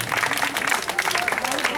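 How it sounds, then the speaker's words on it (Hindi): Audience clapping at a live magic show, a dense continuous patter of many hands filling the whole short stretch, fairly close and steady with a bit of crowd murmur mixed in. "जोरदार ताली बजाइए।"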